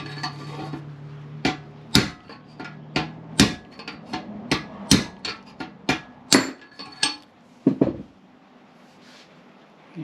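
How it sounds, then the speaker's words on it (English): Rapid, irregular metallic knocks, about a dozen sharp close blows, as a length of aluminium handlebar drives bearing races out of a Yamaha XV 750 motorcycle, ending in a brief pause and two last strikes. "I'm going to attempt to knock the racers out with my bit of aluminium handlebar."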